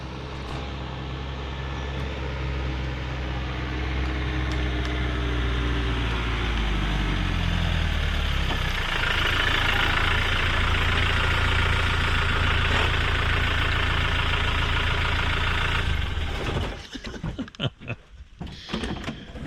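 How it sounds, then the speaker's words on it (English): A Defender bus engine idles loud and close, its rumble sinking in pitch early on, then holding a steady throb before breaking into uneven clattering knocks at the end. "This is the first look at Marco's new bus"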